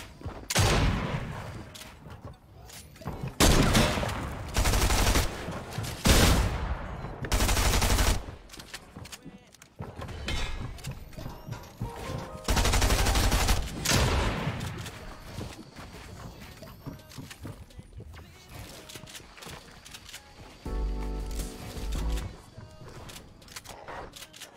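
Video game gunfire comes in repeated loud bursts of rapid shots separated by short pauses, with quieter action noise between volleys.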